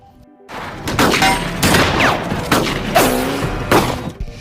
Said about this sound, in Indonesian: Dan tentunya di sini terjadi baku tembak yang seru antara tim Grid dan tim Muldoon